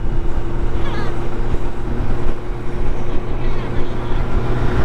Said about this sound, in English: intake noise on this is fucking ridiculous